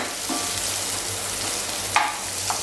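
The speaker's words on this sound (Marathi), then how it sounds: "तर अगदी 1 मिनिट हे थोडंसं परतून घेऊ आपण" Garlic chicken sizzles as it is sautéed in a pan with garlic, a steady close frying hiss broken by a couple of brief stirring scrapes.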